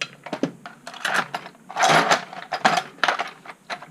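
A Thorson ratchet wrench is handled at a lakeside auction, giving a series of quick metallic clicks and clinks in irregular bursts, close and fairly crisp, with no talking over it.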